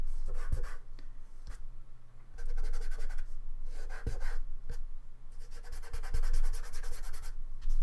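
Pastel rubbed into early layers on paper during wildlife drawing, heard as soft scratchy strokes in bursts with brief pauses between, close and fairly quiet, no voices.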